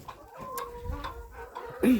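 A bantam hen gives soft, broody clucks in a farmyard, a few short repeated calls at close range with some other fowl noise around, ending in a louder squawk.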